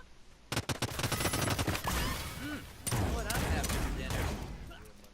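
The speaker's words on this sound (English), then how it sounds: "this burst gun did wonders for me in this entire match" Rapid bursts of gunfire from a burst gun in the battle royale video game Realms Royale, loud and dense, with a voice and game sounds mixed underneath.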